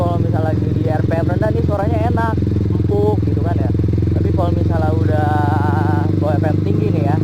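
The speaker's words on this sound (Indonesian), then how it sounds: "Nah, suara 1 silinder baru keluar ya, walaupun emang masih tetap ngebas" Honda CB150R fitted with a Pro Liner TR-1 long carbon exhaust revving at high RPM, a loud, steady single-cylinder bass drone close by, with someone talking over it throughout.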